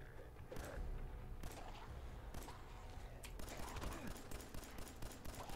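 Rapid bursts of gunfire from the video game Fallout 4, a run of sharp shots fired in quick succession, fairly loud over steady background game noise.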